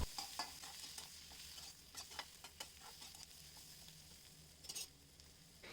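Grated ginger paste with turmeric and cumin powder is stirred in a hot wok for a prawn curry, giving a soft, quiet sizzle broken by light scraping strokes of the spoon.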